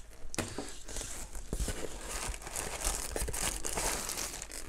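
A plastic bag is torn open and crinkled while unboxing a BenQ EW3280U 4K monitor, a close run of loud, irregular crumpling and ripping noises.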